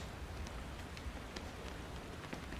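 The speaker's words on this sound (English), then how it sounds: "The rain effect is really cool." Steady rain falls in the Shadow of the Colossus video game, making a dense, even hiss of drops with scattered brighter splashes and no pause.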